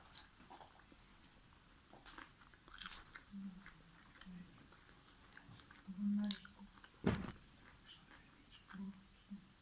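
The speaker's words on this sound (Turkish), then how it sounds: "Salataları ısırdım." Close, crunchy bites and wet chewing of salad come in scattered bursts, with a louder crunch near the end, over quiet background noise.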